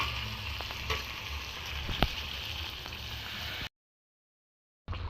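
Chicken frying in a pan with onion and garam masala, a steady loud sizzle with a sharp splash-crackle as water hits the hot oil, then a sudden cut to silence before the sizzle resumes.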